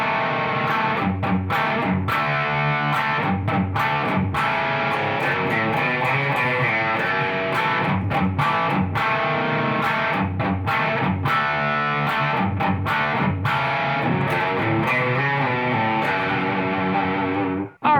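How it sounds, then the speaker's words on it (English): Electric guitar played through an ADA MP-2 preamp on a crunch distortion preset, mid-range heavy and crunchy but not fully saturated, a continuous riff of chugging chords and notes alone with no talk. "Very mid-range heavy, crunchy, but not super saturated distortion."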